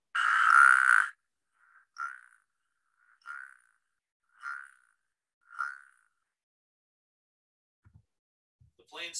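A spadefoot toad calls with a long nasal snore-like note, then four shorter, evenly spaced calls, close and clear against silence, with faint rustling at the end.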